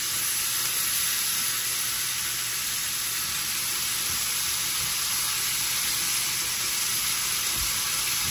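Food sautéing in a hot pan makes a steady, even sizzle with occasional faint scrapes, close and continuous with no talking.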